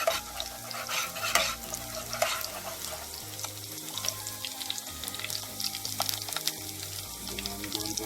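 Garlic frying and slightly burning in a pan, a moderate sizzle with busy stirring and scraping, some watery splashing sounds mixed in, heard close and with no talking.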